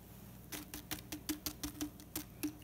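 Crispy homemade Frito-style corn chips land on a plate in a quick, irregular patter of light, dry clicks. The sound is soft and close, with no talk.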